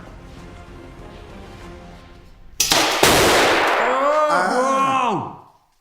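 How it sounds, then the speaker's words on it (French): A bottle of dry ice in a safe bursts with a sudden loud bang, then a second sharp crack, followed by a long roaring rush and ringing, wavering tones that fade away after a few seconds. "Une bouteille a explosé très faiblement"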